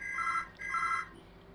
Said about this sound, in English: And there goes the phone yet again.